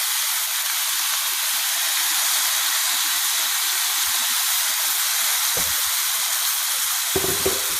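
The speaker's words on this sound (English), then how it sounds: "As you can hear, it's frying." Loud, steady sizzling of green salsa frying in hot oil for chilaquiles, a constant close hiss with a few brief stirring knocks near the end.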